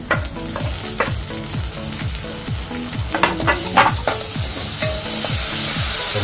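Chopped tomato tossed into browned onion for dhaba-style dal tadka, frying in a pan with a steady sizzle and repeated rhythmic scrapes of a spoon stirring, close and fairly loud throughout.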